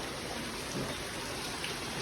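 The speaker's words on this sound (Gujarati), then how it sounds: "બહાર ફૂલ વરસાદ ચાલુ હોય" Heavy rain pours steadily outside in a village, a dense continuous hiss of drops with no voices.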